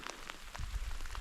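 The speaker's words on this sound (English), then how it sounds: "Just the rain non-stop." Rain falls steadily on open ground in Iceland's wild highlands, a faint continuous patter with scattered drop hits and no voices.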